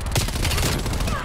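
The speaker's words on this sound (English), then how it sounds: "Hostile artillery targeting active." A brief, loud artillery strike in Call of Duty Black Ops Cold War fills the moment with dense, overlapping explosive bursts and rumbling impacts, heavy and continuous for about a second.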